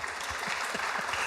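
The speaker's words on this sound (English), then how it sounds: "Can everyone have a mega round of applause?" Applause from a live audience at a talk, a steady wash of clapping that fills the whole moment with no voices over it.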